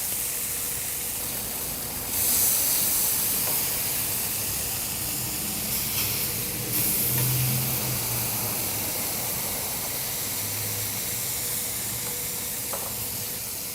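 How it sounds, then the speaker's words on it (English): Wagyu burger patties searing on a griddle, a loud, steady hiss of sizzling fat that swells briefly a couple of times, close up with no talking. "we're getting a nice sear on there"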